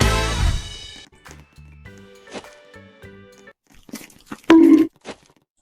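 Crunchy scooping and munching of sand in the Roblox game Eat Sand, short gritty crunches and chewing bites between chiming game tones and a brief melodic jingle at the start.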